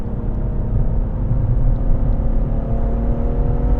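A BMW M140i engine under throttle while driving, heard from inside as a steady, loud rumbling drone with a low whir and no talking.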